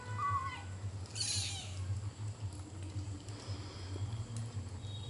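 Several cats meow while eating rice and fish indoors, with a few short, high cries early on over a steady low hum and soft background noise.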